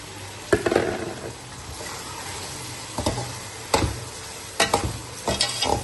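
Boiled chickpeas fry with tomato, green chilli and masala in a pan for chana pulao, giving a steady close sizzle punctuated by several sharp spoon scrapes and clacks against the pan.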